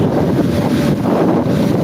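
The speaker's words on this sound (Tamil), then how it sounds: "சீறி பாய்ந்து செல்லும் போட்" A boat speeds across the sea off Batu Ferringhi beach, with a loud continuous roar of engine, rushing water and heavy wind buffeting the microphone throughout.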